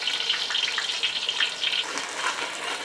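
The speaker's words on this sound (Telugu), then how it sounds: "సో ఇప్పుడు ఇది మంచిగా ఫ్రై అయిపోవాలి, పచ్చివాసన అంతా పోయి మంచిగా ఫ్రై అయిపోవాలన్నమాట" Masala paste frying in oil in a pan for white fish curry, giving a steady, moderately faint sizzle with crackling bursts throughout, no talking.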